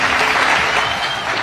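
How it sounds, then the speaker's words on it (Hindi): Loud, dense applause from a large crowd greets the unveiling of a foundation plaque for the Ganga Expressway at an outdoor ceremony in Shahjahanpur with the Prime Minister, a steady wash of clapping filling the whole stretch. "जोरदार तालियों के साथ स्वागत करें।"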